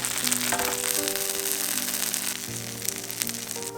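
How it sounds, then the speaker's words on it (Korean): Steady, dense sizzling of an oatmeal and green onion pancake batter frying in a hot pan, continuous and close, with faint background music underneath and no talking. "앞뒤로 노릇하게 구우신 후에"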